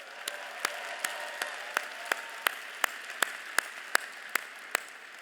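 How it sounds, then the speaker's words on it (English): Slow, evenly spaced claps for the musicians at a talk event, about a dozen sharp distinct hits roughly a third of a second apart, fairly faint and isolated like a few hands keeping time. "One round of applause one more time for our musicians."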